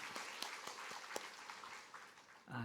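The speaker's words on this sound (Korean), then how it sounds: "우리 크게 한번 박수 한번 하도록 할까요?" A church congregation claps together in a soft, distant round of applause, individual sharp claps standing out now and then, fading as a voice begins at the end.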